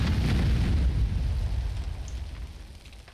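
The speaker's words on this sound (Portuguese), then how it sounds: "Na hora que ele explodir, vai explodir tudo de uma vez" Stacked explosives go off at once against a player base in Conan Exiles, a single heavy booming blast that rumbles and crackles, then fades away over a few seconds.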